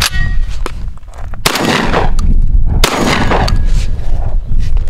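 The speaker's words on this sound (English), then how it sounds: "I'm going to take a shot." Beretta 1301 Tactical "Marine" shotgun fired outdoors, with loud, sharp blasts that ring out and decay. A louder shot falls near the middle and another soon after, with no speech.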